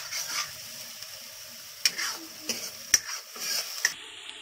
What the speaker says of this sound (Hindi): हमारी प्याज हल्की सी भुन गई है